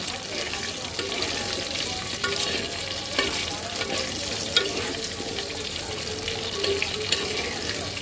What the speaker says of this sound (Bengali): তো চলো, আগে আলুটা একটু হালকা ভাজা হোক।